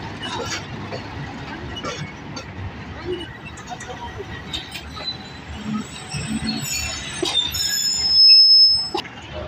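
A Pakistan Railway train with a Hitachi locomotive rumbles steadily past at Rawalpindi with broad, continuous noise, a squealing whine rising near the end, and faint voices in the background.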